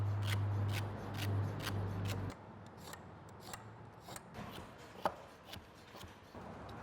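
Knife chopping onion, carrot and celery into large pieces for stock, a run of steady cutting strokes on a board, close and moderately loud at first, then sparser, quieter chops with one sharper knock.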